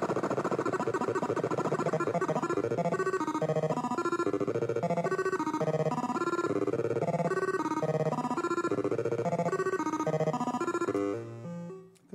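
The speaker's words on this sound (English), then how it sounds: "Somebody please answer that phone, which seems to be ringing somewhere." A ringing phone sounds off during a presentation at the Circuits 2021 event, a loud, steady melodic ringtone pattern repeating for about eleven seconds before cutting off abruptly.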